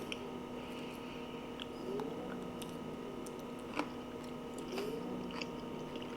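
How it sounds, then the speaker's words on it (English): Someone chews a mouthful of zucchini and yellow squash au gratin close up, producing soft, moist squishing with scattered small clicks and smacks. The chewing is faint and continuous, with no talk. "Can you tell I'm still eating?"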